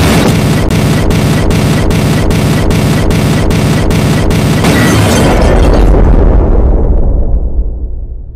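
A loud, sustained explosive roar with rapid rhythmic bursts at first, swelling into a big boom that rumbles and fades away.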